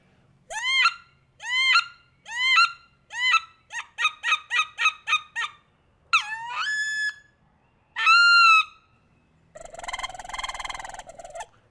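A duck call imitates wood duck sitting sounds: rising squealing whistles, then a quick run of short peeps, a few longer drawn calls, and finally a buzzy rolled trill, close and clear with quiet gaps between.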